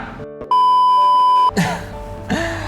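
An alarm beeps in a steady, loud electronic tone lasting about a second, with brief tonal blips around it and a person's voice following afterward.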